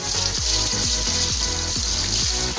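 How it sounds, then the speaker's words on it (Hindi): Water pours and gushes steadily into a washing machine tub, a continuous close splashing flow with bubbling pulses. "ये देखिए हम इसमें ये पानी डाल देते हैं।"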